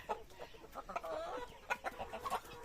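A Darag native chicken rooster on a rural free range clucks in a run of short, choppy calls, fairly close and moderately loud, with no talking.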